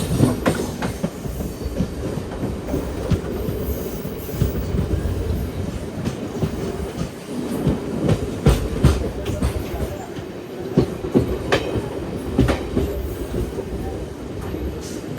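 A MEMU passenger train runs on rails between Rajahmundry and Vijayawada, heard from inside the coach: a steady low rumble with rhythmic clickety-clack of wheels over joints and occasional metallic clunks, loud and continuous.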